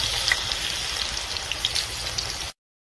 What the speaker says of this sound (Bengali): মা বাকি যতগুলো আছে সব কটা ভেজে নিক